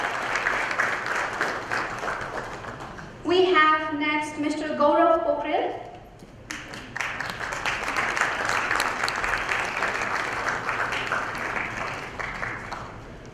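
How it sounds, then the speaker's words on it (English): Audience applause for the finalists at a GTH 2016 event fills most of the clip, steady and moderately loud. An announcer's voice breaks in briefly partway through. "Let's appreciate them with a huge round of applause."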